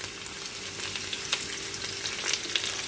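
Garlic, onion and curry leaves frying in a pan for bitter gourd curry, giving a soft, steady crackling sizzle with small pops and spatters throughout.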